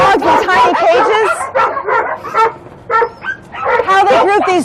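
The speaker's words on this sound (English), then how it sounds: "huge groups of dogs in tiny cages." Crowds of dogs crammed in tiny cages at a dog meat farm bark, yip and whimper in overlapping bursts, loud and close, a dense chorus with brief lulls.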